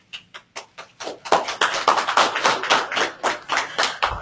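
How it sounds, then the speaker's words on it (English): An audience at a professional training session for licensed site remediation professionals applauds a presenter; a few isolated claps at first, then a denser burst of clapping from a small group that thins toward the end. "I don't get applause that much, so I appreciate it."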